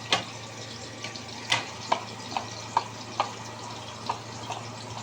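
Fish fries in a wok with a constant, fairly quiet sizzle and bubbling, broken by a series of sharp spatter pops at irregular intervals.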